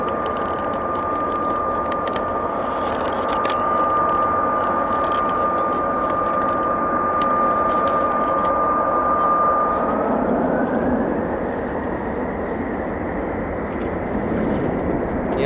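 A Victor aircraft performs at a RAF air show, its loud, sustained engine roar filling the air with a steady whine that shifts in pitch as it passes, with no talk over it.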